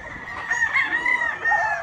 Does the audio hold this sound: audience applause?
no